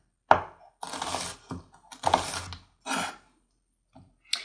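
An onion chopped with a knife on a cutting board: a sharp first chop, then several separate bursts of cutting spaced irregularly, close and clear with quiet gaps between.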